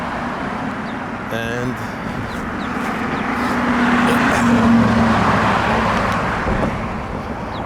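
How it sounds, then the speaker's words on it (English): Street traffic on Canal Road, a continuous roar of passing cars swelling louder midway as vehicles go by close, with someone talking over it near the start. "this is the traffic"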